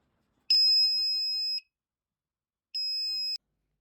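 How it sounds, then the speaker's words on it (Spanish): Two electronic buzzer tones, a long steady beep followed by a shorter one after a pause, shrill and clear against silence. "colocaremos una alarma sencilla conectando un buzzer en paralelo al LED"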